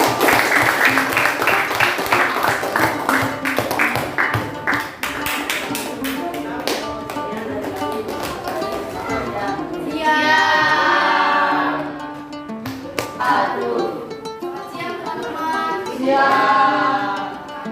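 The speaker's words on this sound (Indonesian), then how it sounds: "silakan beri tepuk tangan untuk kelompok ini" A classroom of students applauds a student group with a dense flurry of hand claps for the first few seconds, then the clapping fades under a speaking voice that continues to the end.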